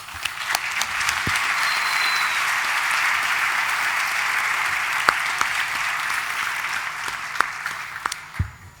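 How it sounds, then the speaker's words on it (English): An audience at the A.S.I. Best Sommelier of the World 2016 competition in Mendoza, Argentina applauds the judges, a sustained, even wash of clapping with a few sharper claps standing out. "I would like to give them a round of applause as well."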